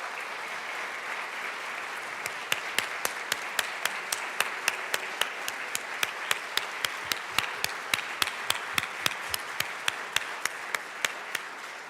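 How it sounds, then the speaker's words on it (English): Audience applause fills a state House legislative chamber, a dense, steady wash of clapping lasting about ten seconds, with a few sharper individual claps standing out near the microphone. "A round of applause for Vanessa."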